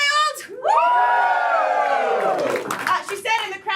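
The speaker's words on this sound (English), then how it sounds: "the crowd went wild" A comedy club crowd erupts in loud cheering, whoops and yells that swell and hold for a few seconds, mixed with shouting voices and some clapping.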